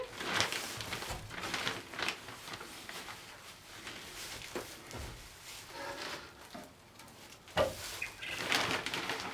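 Eurasian Collared Doves shuffling in a farm nest box filled with sawdust and hay: soft scattered rustles, patters and occasional faint coos, fairly close and quiet, with a few sharper bumps.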